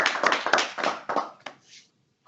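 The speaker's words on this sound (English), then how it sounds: "Can we have another round of applause for Scott?" A small round of applause from a user group meeting, a few people clapping in a short uneven burst that tapers off after about a second and a half, then falls almost silent.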